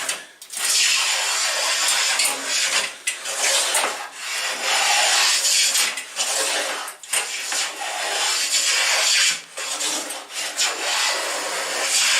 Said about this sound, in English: Can take some nice thin shavings.